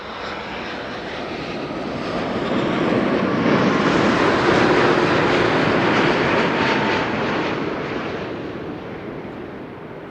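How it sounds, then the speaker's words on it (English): A United Airlines airliner inbound from San Francisco arrives at Amsterdam Schiphol, its loud jet roar swelling over several seconds, peaking midway, then slowly easing off, with no voices present. "United Airlines, flight 968 arrived from San Francisco."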